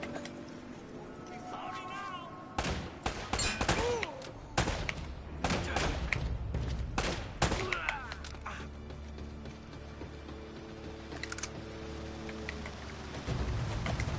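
Gunfire in the action game Uncharted: Drake's Fortune, a series of sharp shots in scattered bursts with pauses between, set against rain-like ambience and occasional game voices.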